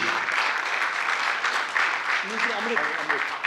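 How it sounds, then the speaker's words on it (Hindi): Audience clapping steadily through the whole stretch at a Hindi theatre play, the dense applause fairly close and full, with a few faint voices rising underneath toward the end. "तालियां वहां तक पहुंच जाए"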